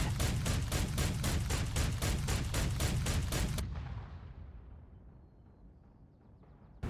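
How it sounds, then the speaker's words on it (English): Allied anti-aircraft flak opens up on German HE-111 bombers in a WWII scene, a loud rapid barrage of pounding bursts for several seconds that cuts off into a fading rumbling echo. "the Allied flak begins to open up on the bombers"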